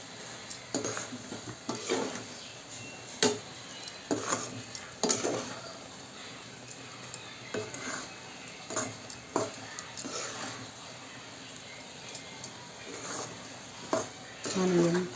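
A spoon stirs egg tomato curry in a pan, with irregular clinks and scrapes against the metal over a low sizzle, close and fairly quiet, with occasional louder knocks.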